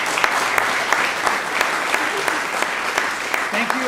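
Audience applause closing a flute masterclass, a loud sustained wash of many hands clapping with sharper individual claps popping out and a brief voice underneath near the end.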